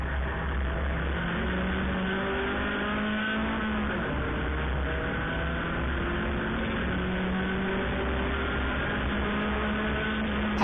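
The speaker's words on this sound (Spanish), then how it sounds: "Viene presionando durísimo, durísimo viene Marín, pegándole muy muy fuerte ahí la defensa con su auto" TC2000 touring race cars compete at the Puebla circuit, giving a steady, loud engine roar with rising and falling revs as the cars drive close together, continuous throughout with no pauses.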